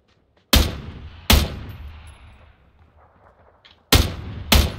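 Four sharp, loud gunshots in PUBG: two close together, a pause filled with a fading echo and faint rumble, then two more in quick succession, with no voices.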